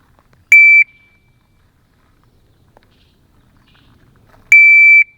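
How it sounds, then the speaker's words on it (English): A handheld shot timer on a pistol range gives two sharp electronic beeps about four seconds apart, loud and close, with near silence between them. "So we're gonna use this shot timer here. This is 4 seconds."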